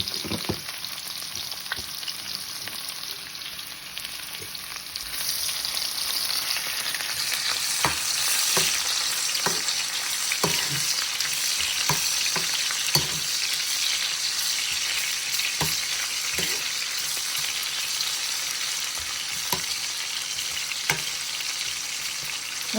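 Pieces of amla (Indian gooseberry) fry in hot oil with a steady, loud, close sizzle throughout, broken by a few sharp crackles and stirring scrapes.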